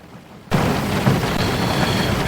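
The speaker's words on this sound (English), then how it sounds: "this rain's coming back down again. The rain's pelting it down." Heavy rain begins suddenly and keeps pelting down as a dense, steady hiss during a late-night live show. It stays loud and continuous to the end, with no speech over it.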